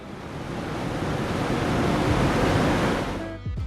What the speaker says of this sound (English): The trail ends with the 15-meter-high Šum waterfall, the name of which translates as noise, and it fully corresponds to it.